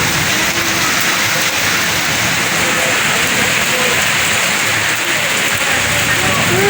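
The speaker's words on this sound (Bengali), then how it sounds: "বিশাল বৃষ্টি হচ্ছে আর বিদ্যুৎ চমকাচ্ছে" Heavy rain from a Kalbaishakhi storm pours down steadily as a loud, dense wash of noise with no letup from start to finish, close and constant.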